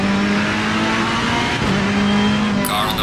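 A Ferrari 458 race car engine at Silverstone in a racing video game: a loud, sustained engine drone holding a steady pitch, dipping briefly mid-way and then resuming, with a bright burst near the end.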